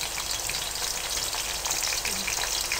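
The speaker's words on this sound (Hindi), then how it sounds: "तेज़ आंच कर लें और प्याज को फ्राई कर लें।" Onions fry over high heat in a dense, even crackle of sizzling oil that holds steady throughout, close and fairly loud with no voices.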